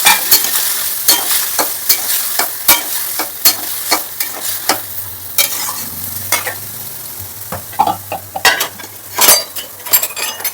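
Spiced peas and potatoes stirred in a pan, with loud, close clinks and scrapes of a utensil against metal in an irregular rhythm over a low, steady sizzle.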